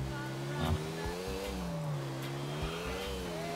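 A scooter in the video game GTA IV rides toward the finish line with a faint, thin, buzzing engine whine that wavers in pitch, with a few soft knocks underneath.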